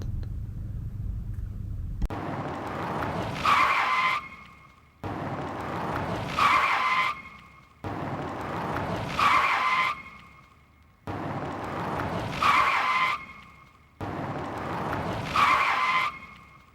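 Five repeated bursts of squealing tires skidding, each rising to a loud screech and then cutting off, evenly spaced and without voices.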